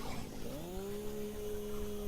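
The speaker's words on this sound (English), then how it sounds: "you can also clear some of the smaller rocks using the chainsaw." Chainsaw from the video game Satisfactory revving up, its steady engine tone rising then holding as it clears small rocks, continuous and fairly loud over game background sound.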